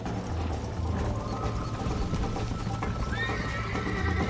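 A horse in the Red Dead Redemption video game whinnies and neighs while its hooves clip-clop steadily underneath, with brief gallop noise and no speech.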